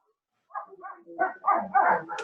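A dog barks close to a microphone during an online talk, a string of short, loud, rising yips and barks with no speech over them.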